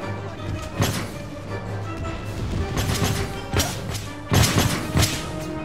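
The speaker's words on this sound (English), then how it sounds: "hand mortar is very effective." Hand mortars fire in an Empire Total War battle, sounding as repeated dull thuds and crashing impacts over a busy background of battle noise.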